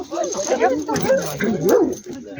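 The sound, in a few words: dogs barking and playing at a kennel club Halloween event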